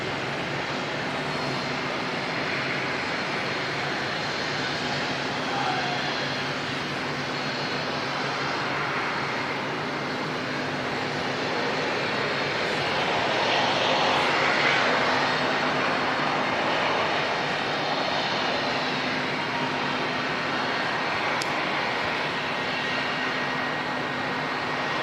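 A black Boeing 787 airliner closes in on Auckland Airport to land. Its broad engine roar is steady and continuous, swelling slightly near the middle, with a low hum beneath and no talk.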